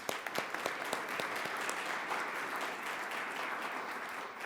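Applause from an event audience thanking sponsors, a moderately quiet but steady patter of many hands with a few sharper near claps standing out early on.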